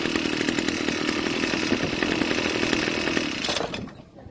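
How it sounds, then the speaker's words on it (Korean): A brush cutter's small two-stroke engine starts and runs loud and steady with a buzzing whine, then cuts off abruptly near the end. "이 제품은 살짝 들었다 놔도 이렇게 시동이 걸리는 거"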